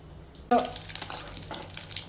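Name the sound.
egg devil frying in hot oil, sizzling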